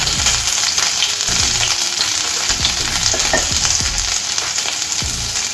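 Chopped garlic and grated ginger sizzle steadily in hot oil for a Telugu pan-fried rice dish. The frying hiss stays close and continuous, with repeated light scrapes and clinks as the pan is stirred, and nobody is talking.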